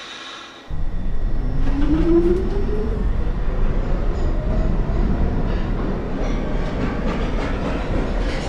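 An R62 subway car on the downtown local 1 line roars loudly and steadily at close range after a sudden start, with a rising whine of motors and rattling wheels underneath.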